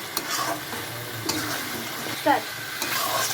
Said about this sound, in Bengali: আলুটা দিয়ে কষিয়ে নিলাম।